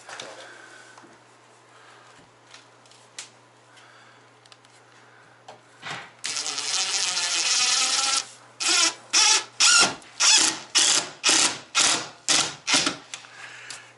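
Cement board screws are driven into cement board during a bath and shower renovation: a steady, close drill whine, then a rapid run of sharp, regular ratcheting bursts.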